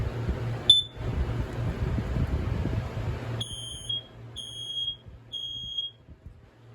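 A smoke alarm sounds with shrill high beeps: one early chirp, then three repeated piercing tones in a steady rhythm over a low hum.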